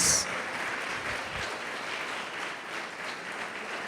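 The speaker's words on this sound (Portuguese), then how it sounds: "Pode aplaudir o Senhor e glorificar a Deus." A church congregation applauding during a worship service, a fairly soft, even patter of clapping that carries through the short span.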